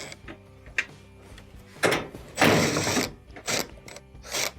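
Small quarter-inch screws being backed out of a washing machine console: close, intermittent clicks and scrapes of a driver turning, with a few louder rasping bursts of metal and plastic, no talking.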